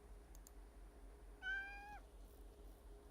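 A single cat meow from a visual novel game, a clear rising-then-level cry lasting about half a second, heard alone against quiet background hum.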